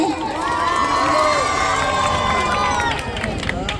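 At a fan event in Palakkad, a large crowd cheers and shouts for Bigg Boss Malayalam stars Gabri and Jasmin. The roar is loud and continuous, with excited voices layered over it.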